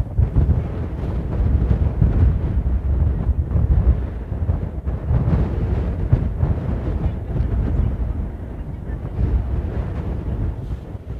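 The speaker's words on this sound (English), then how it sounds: "Winds are intensifying, getting stronger and stronger." Strong, gusting wind batters the microphone at the Fagradalsfjall volcano eruption site in Iceland, a constant, loud low rumble that swells and eases throughout, with no other sound standing out.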